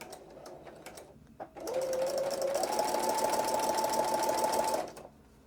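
A sewing machine back stitches through homespun rag quilt fabric and batting, a soft lead-in giving way to several seconds of steady, close whirring that rises slightly in pitch midway before stopping.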